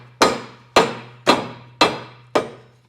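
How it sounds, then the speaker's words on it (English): Dead blow hammer tapping a Stealth Hitches hidden rack receiver onto threads on a 2024 BMW X5: five evenly spaced, sharp thuds, each decaying quickly, over a faint steady hum. "just a nice little bump from a dead blow hammer should get this to where it sits nice and flush"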